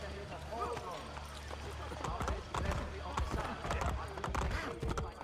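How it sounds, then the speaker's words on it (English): A horse gallops in Assassin's Creed Brotherhood, its hoofbeats clattering in quick rhythmic bursts amid game sounds while a player talks over it. "I call the horse and he will just ride around the corner"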